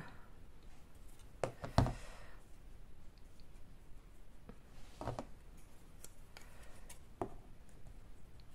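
Paper being snipped with scissors while making an autumn greeting card: a few sharp, separate cuts spaced several seconds apart against a quiet room.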